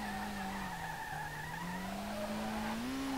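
Nissan R32 drift car in the game SLRR sliding with sustained tire squeal over a steady, loud engine drone whose pitch dips and then climbs, continuous and close throughout.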